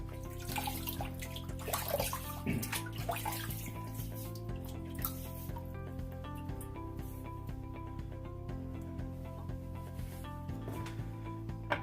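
Water splashes and trickles onto a shaving brush head loaded with soap. The clatter is irregular and close, over a steady tonal hum from a running tap or background.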